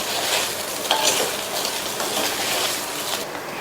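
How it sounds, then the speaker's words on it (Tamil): Brinjal frying with curry leaves in oil, stirred in the pan, giving a dense, loud, continuous sizzle with faint scraping throughout and no talk. "கருவேப்பிலை இலைகளை சேர்த்துட்டு நல்லா ஒரு தடவை மிக்ஸ் பண்ணி விட்டுறலாம்"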